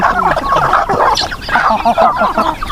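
Chickens cluck in a busy, irregular chorus close by, with short, loud calls overlapping throughout.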